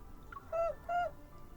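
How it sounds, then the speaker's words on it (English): Two soft, hollow owl hoots in a video game scene, heard just outside a window at night, each short and evenly spaced, close and gentle over a faint background hum. "I hear several soft hoots outside the window."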